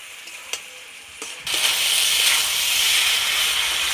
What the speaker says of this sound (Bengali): এই মশলাটা দিয়েও খুব সুন্দর করে আমি কষিয়ে নেব।